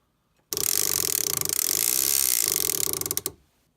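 Foredom H.15 hammer handpiece peening a textured surface into a metal ring, a loud, continuous rapid buzzing rattle of fast repeated impacts lasting about three seconds, with no voices.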